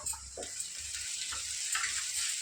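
Ginger paste frying with onions and curry leaves in a pan for a prawn dish, giving a steady sizzle with soft stirring scrapes, close and unbroken.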